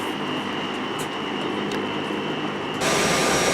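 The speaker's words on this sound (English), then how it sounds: "This is our plane on our return to Las Vegas." A passenger airplane sits on the ground before taxiing for a return flight to Las Vegas, its engines giving a steady, loud roar with a broad constant hiss that swells slightly louder near the end.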